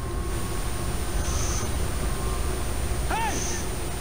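Train in the World War Z video game, a steady low rumble of rail noise running throughout with brief high whistling and squealing tones, loud and continuous.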